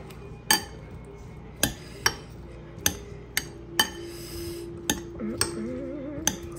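A spoon mixing homemade sauce in a dish, knocking the sides in a string of sharp, close clinks spaced about a second apart over a low steady hum, and no talking.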